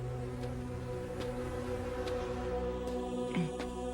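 A strange, dense buzzing, likened to a thousand bees, hangs as a steady layered drone with faint ticks and a brief rising squeal near the end; quiet and continuous, with no voices.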